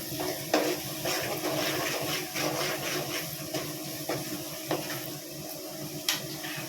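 Steady sizzling of tempering spices frying in hot oil for chicken fry, with scattered clinks and scrapes of a utensil against the pan, no voices.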